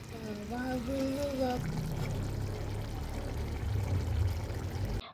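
Drinking water poured out, a soft steady pouring and trickle that runs for several seconds after someone speaks briefly at the start.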